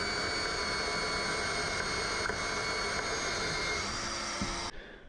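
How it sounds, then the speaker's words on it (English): A drill press bores out a sheared-off bolt removed from a tractor, its motor giving a loud, steady whining drone that holds unbroken for several seconds before cutting off abruptly near the end. "So I'm going to see if I'm able to drill through that bolt that sheared off"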